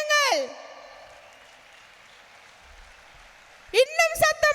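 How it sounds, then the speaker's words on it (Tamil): A crowd claps steadily and diffusely for India's Prime Minister Modi at a stage event celebrating his third term, with the applause held at a moderate distance. A loud amplified voice speaks over it at the start and again at the end. "மூன்றாவது முறையாக நம்முடைய பாரத பிரதமர் மீண்டும் அரியணை ஏறுவதற்கு கரகோஷ ஒலியை தட்டுங்கள்"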